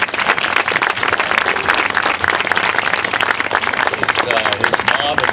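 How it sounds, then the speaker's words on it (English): Graduation ceremony audience breaking into sustained applause, a dense steady wash of many hands clapping at close range throughout, with a voice audible underneath. "I'm sure all of you want to applaud Steve Schlitten"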